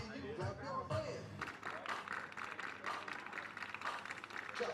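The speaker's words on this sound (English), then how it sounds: "Let me hear you clap your hands." A crowd claps along during a line dance, a run of quick rhythmic hand claps following a voice calling out steps, with music and chatter underneath.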